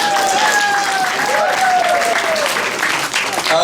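A crowd at a memorial gathering for Mendelson Joe in Toronto bursts into loud, close applause that holds steady, mixed with a few cheers or whistles.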